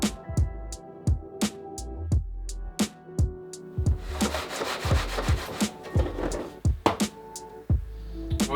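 Cork-centred carp fishing boilie pop-ups roll by hand across a table, giving repeated soft rubbing sweeps broken by sharp taps and knocks in an uneven rhythm, close and fairly quiet, with no talking.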